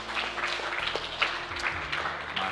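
Applause at a Ramadan children's show, scattered hand clapping from a group in a room, steady and moderately faint over a low hum.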